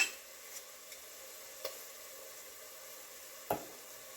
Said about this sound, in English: I'm going to let that saute just for a minute